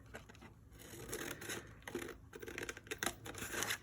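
Paper being cut with scissors while making a folded box, giving repeated close snips and rustling scrapes in an irregular rhythm with no talking.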